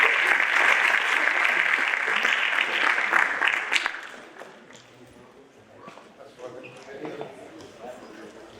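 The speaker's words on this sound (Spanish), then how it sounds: "recibamos con un fuerte aplauso también a nuestro director" A conference audience applauds steadily and loudly for about four seconds to welcome the director, then the clapping dies away into quiet room sound with faint talk.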